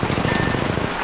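Rapid gunfire in Apex Legends Mobile, a dense run of shots packed into about a second, loud and close with no talking over it.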